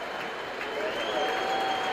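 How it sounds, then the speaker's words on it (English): Sustained standing ovation from a large Fenway Park crowd, a dense, far-off wash of clapping and cheering, with a faint whistle-like tone rising through it. "And listen to this applause."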